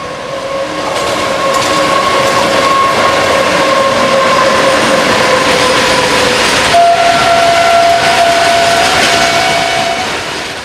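Passenger train at Bhabua Road railway station in Mohania, with loud steady rolling wheels and rattling carriages throughout, sustained tonal hum of the passing cars, and no talk.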